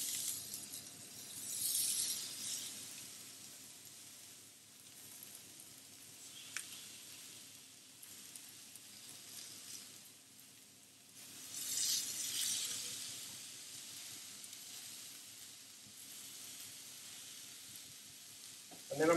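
Steaks sizzling in a hot pan just after being flipped, a steady soft hiss with two louder swells of crackle and an occasional faint clink, with no talking.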